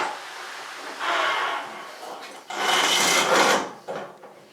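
A Blomberg clothes dryer drum rumbles and whirs with a scraping, rubbing texture, swelling louder and softer as it turns.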